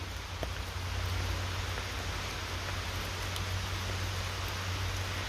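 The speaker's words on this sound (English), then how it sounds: "this is a bit too much rain" Heavy rain falling steadily in woodland, a dense continuous hiss of drops on leaves and ground with no pauses, close and even throughout.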